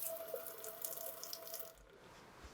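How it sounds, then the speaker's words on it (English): Running tap water rinses a Turbimax CUS52D turbidity sensor, a steady splashing hiss at close range that stops abruptly near the end, leaving a quiet tail with a faint low thump. "rinse the sensor thoroughly with water to remove possible streaks and chemical residues at the measurement components."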